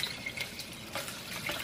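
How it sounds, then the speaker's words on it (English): Brine flecked with lemon, peppercorns and onion pours over a raw chicken in a container, a soft steady splashing trickle close by with no talking. "now I'm going to pour my brine on top of it"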